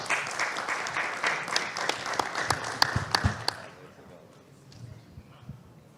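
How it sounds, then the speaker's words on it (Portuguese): Audience applause greets a speaker at a seminar on the challenges of the São Paulo coast, dense clapping for about three and a half seconds before thinning out into scattered claps and room murmur. "Salva de palmas."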